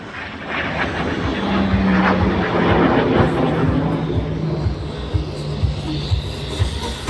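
An aerobatic training aircraft flies a left-wing snap roll low in front of an airshow crowd, its engine droning steadily and loudly throughout, with a held tone and some voices underneath.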